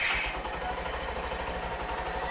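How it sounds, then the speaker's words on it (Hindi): Hero Passion Pro BS6 motorcycle engine starting and settling into a fast, high-RPM idle, a steady close putter with a continuous rhythmic pulse. "तो जैसा कि मैं स्टार्ट करता हूँ इंजन को"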